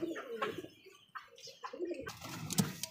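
Pigeons, including a white German Beauty Homer pair, coo faintly in a few short, soft throaty bursts, with a brighter noisy stretch near the end.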